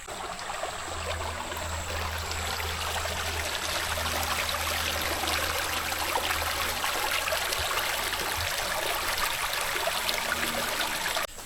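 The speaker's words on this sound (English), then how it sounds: "That water sound there puts you to sleep." Steady rushing and trickling of a flowing creek in north Florida, continuous and fairly even, heard alone without voices.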